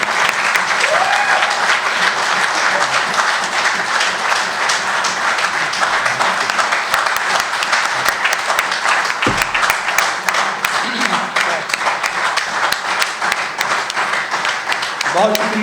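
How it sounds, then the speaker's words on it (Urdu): An audience applauds at a book inauguration ceremony in a tea house, a loud, sustained indoor clapping that fills the room and keeps going throughout, with a voice faintly heard under it. "تالیاں اور تالیوں کا آغاز کیجئے"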